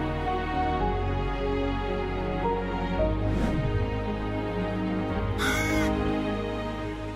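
A crow caws several times, with short harsh calls standing out over a steady outdoor background; the bird is one that keeps company with a man as he drinks his coffee each day.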